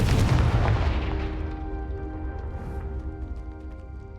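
Confringo explosive spell blast in Hogwarts Legacy: one loud, deep boom right at the start that rolls off into a long rumbling decay, with faint ringing game ambience beneath.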